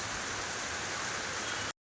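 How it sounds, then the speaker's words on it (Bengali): Heavy morning downpour, a dense, even hiss of rain that runs steadily and then cuts off abruptly. "আজকে বৃষ্টি শুরু হয়েছে এখন আটটা বাজে একদম মুসলধারে বৃষ্টি"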